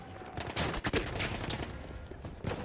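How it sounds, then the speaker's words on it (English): Rapid gunfire from a weapon in the shooter game Battlefield 1, a dense clatter of overlapping shots and bursts filling a short span of busy in-game battle noise. "Some guy just managed to shoot through a brick wall."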